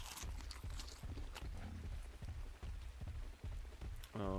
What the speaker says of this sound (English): Oh, and now it starts raining.